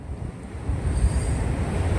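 Penna river water surging out through an open gate of the Somasila dam, a steady low roar of rushing flow with broadband wind-like noise throughout, close and fairly loud with no talk.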